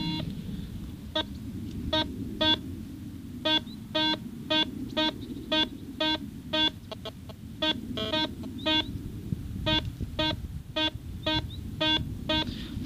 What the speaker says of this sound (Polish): Sygnał do kopania, teraz druga strona.